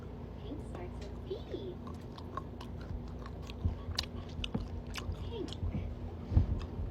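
Chocolate being chewed close to the mic during a mukbang, with soft wet mastication and a few crunchy bites over a low background hum and faint speech.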